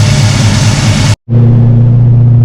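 A carburetted engine roars loudly at steady revs during a lap, cuts out abruptly for a split second, then returns as a lower, steadier drone with a strong humming tone.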